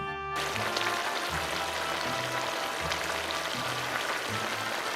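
Lamb sizzles in a pan as soy sauce goes in for a Chinese-style braised lamb and carrot stew, making a dense, steady frying hiss that starts abruptly and continues throughout, close and unbroken by talk.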